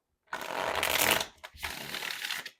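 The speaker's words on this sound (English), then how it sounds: "Libra, one more shuffle." Two quick riffles of a tarot deck being shuffled up close, each a soft papery flutter lasting under a second, with a brief pause between.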